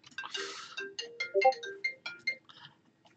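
A phone rings for an incoming call, playing a short melodic ringtone of bright, stepped notes at moderate volume in a quiet room.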